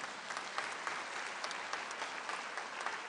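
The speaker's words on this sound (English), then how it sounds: "that deserves a clap." Faint, distant applause from a Labour Party conference hall, a steady wash of many hands clapping for a few seconds.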